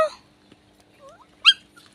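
A female dog gives a few short, high whimpers and soft whines close by in a quiet outdoor setting, with brief gaps of silence between them.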